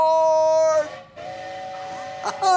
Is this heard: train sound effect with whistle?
yes